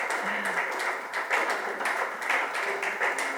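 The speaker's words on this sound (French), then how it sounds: "nous applaudissons très fort, s'il vous plaît." Sustained applause from an audience fills the whole stretch, a dense, steady patter of many hands with slight swells and no pauses.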